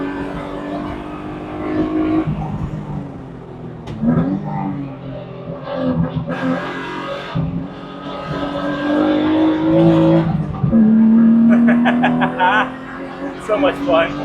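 A BMW E36 M3 track car drives hard on a circuit, its engine revving up and down through the gears and loud throughout, with someone talking over it.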